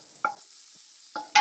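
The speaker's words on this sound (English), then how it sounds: "All right, my flame's on medium. Stir that up." A cup of shallots stirred in a pot over a medium flame for a turkey bone broth stew, giving three short, soft scraping stirs with quiet gaps between them.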